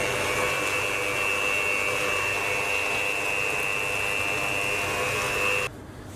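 An electric hand mixer whirs steadily at very low speed through cake batter for a simple rainbow cake, a continuous motor hum with a faint high whine that cuts off abruptly near the end.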